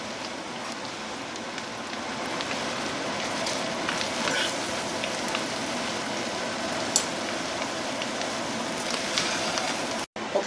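Shrimp frying in a pan, a dense, steady sizzle and crackle of hot oil that runs continuously at close range with small pops and occasional stirring, no talking.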